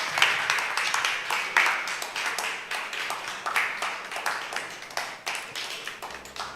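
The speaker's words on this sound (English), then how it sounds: "A louder round of applause." Continuous clapping from an audience at a talk, steady and moderately loud, with no voices standing out.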